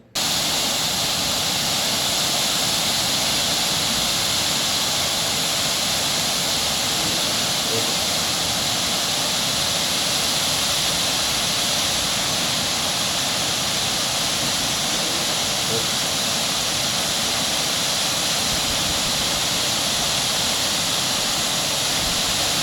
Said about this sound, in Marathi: दिमाखात कोसळणारा धबधबा प्रत्येक निसर्गप्रेमीला आकर्षित करत आहे।